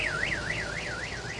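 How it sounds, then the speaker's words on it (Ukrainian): Car alarm of a Suzuki SUV being towed, a loud continuous warbling siren rising and falling about five times in steady cycles, heard alone until it cuts off abruptly. "Постійно спрацьовує сигналізація."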